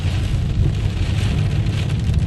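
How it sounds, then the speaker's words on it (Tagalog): Heavy rain pouring down steadily outdoors, a dense, continuous hiss with a low rumble underneath, loud and unbroken with no voices. "Lumakas yung ulan."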